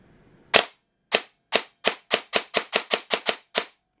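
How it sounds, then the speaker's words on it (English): A G&G ARP9 airsoft gun with a Perun V2 Optical trigger and 6-tooth DSG fires eleven sharp, loud, close shots, spaced irregularly at first and then in a quicker run, with silence between them. "The first shot with double shot is because it was already precocked, so it has to undo the precock."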